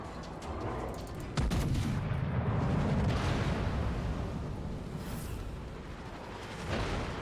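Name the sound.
battleship guns firing in video game World of Warships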